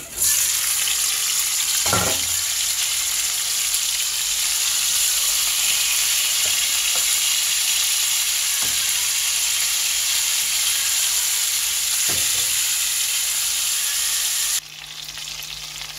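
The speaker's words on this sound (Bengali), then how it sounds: "কড়াইতে তেল দিয়েছি, তেল গরম হয়ে গেছে। এখন আমি চিংড়ি মাছগুলো দিয়ে দিব।" Shrimp frying in hot oil in a wok, a loud, continuous close sizzle with a few faint clinks of stirring, then a sudden drop in level near the end.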